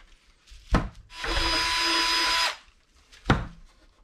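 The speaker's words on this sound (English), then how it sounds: "Now what I can do is drill through these holes with an 1/8 inch bit." A power drill with a 1/8 inch bit bores holes during a stereo install in a 1966 Chevy C10, one steady high whine lasting over a second, framed by two sharp clicks or knocks before and after.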